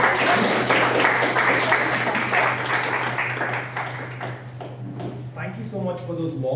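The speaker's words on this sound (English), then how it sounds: "let us put hands together and round of applause" Applause from the audience at a Toastmasters club meeting, a steady wash of many hands clapping that fills the room and fades toward the end as a speaker starts talking.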